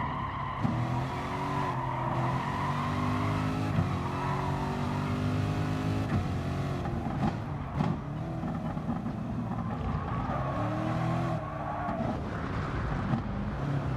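Race car in the Gran Turismo Sport video game, with a steady loud engine drone whose pitch rises and falls through shifts and corners, plus occasional tire noise, sustained throughout.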